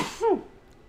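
A single short sneeze, close and fairly loud, trailing off into quiet.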